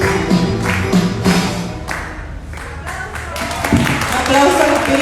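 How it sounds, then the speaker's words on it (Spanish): Congregation at a church retreat clapping in applause, several bursts of hand claps in a rhythmic pattern mixed with voices, fairly close and loud. "Aplauso al Espíritu Santo"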